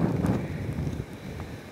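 Low, blustery wind buffets the microphone in a continuous rumble on a hilltop in Gatineau Park in winter, strongest at first then easing slightly, with no voices.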